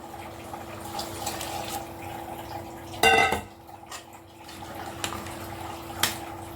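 Water runs and splashes into a metal pot of rice for vegetable rice for a few seconds, with a clatter of metal partway through, then quieter kitchen sounds.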